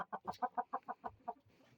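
A short run of close, rhythmic clucks from a chicken, about eight quick pulses fading into softer calls.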